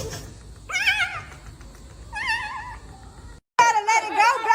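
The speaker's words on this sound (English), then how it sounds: "I told you it was a little kitty." A small kitten meows several times in high, wavering cries with short pauses between them, close and clear. Faint background noise sits underneath.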